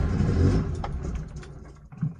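The engine of an old, rusty Rabbit car with a no-start fault cranks briefly without catching. A rumbling churn fades out over about two seconds, close by and fairly loud, with no talk.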